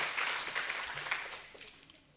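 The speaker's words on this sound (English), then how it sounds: "Can you all give him a big round of applause" An audience at a ladies' training camp in Dubai applauds, a dense patter of many hands clapping at moderate volume that gradually thins and fades out.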